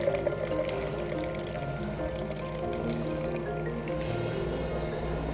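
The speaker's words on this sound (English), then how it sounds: "I just hold the lid over and just pour it out." Cloudy homemade conker detergent solution poured from a jar with the lid held over the opening, a steady close trickling and splashing stream of liquid running for several seconds without talk.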